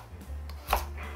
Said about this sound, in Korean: 우엉도 썰어 주시면 됩니다.